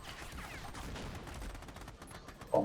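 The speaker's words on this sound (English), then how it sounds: "I have to switch back to my main weapon and fire it" Weapons firing in the video game Army of Two, a rapid run of quiet gunshot bursts repeating across a couple of seconds, with a sharper, louder report right at the end.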